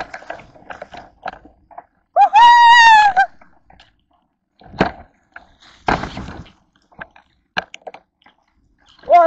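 A goat bleats one long wavering call close by, followed by scattered footsteps, rustles and thumps outdoors, with a second shorter bleat at the very end.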